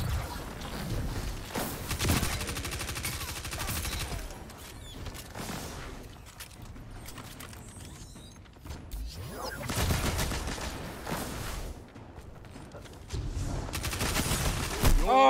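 Rapid bursts of gunfire in the video game Destiny come in repeated volleys with heavy booms, mixed with game voices and a player talking.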